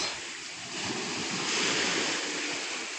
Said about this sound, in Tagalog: Ingay ng alon, ibon, tapos napaka-presko.